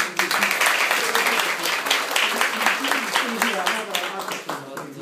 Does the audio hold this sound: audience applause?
yes